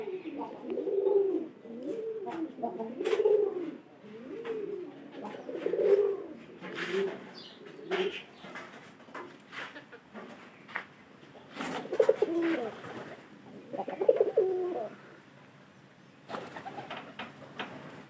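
Domestic pigeons coo repeatedly in soft, rolling phrases, close by, with some rustling and faint chirps mixed in.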